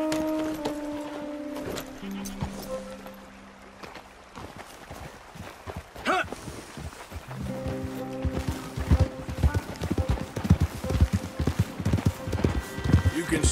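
Horse hooves clip-clop in the Red Dead Redemption 2 video game, a quickening run of hoofbeats that grows louder and denser toward the end, layered with voices and tonal background sounds.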